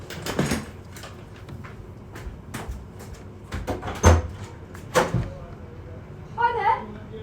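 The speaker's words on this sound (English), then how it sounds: "someone's gonna knock on my door" Knocking at a home's door comes as a series of sharp, irregular thuds spread across several seconds, with a person talking between and around the knocks.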